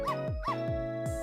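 The dog Missile barking in the video game Ghost Trick: three quick, bright synthesized yips in a steady rhythm, each with a short falling tail, close and clean with no voices.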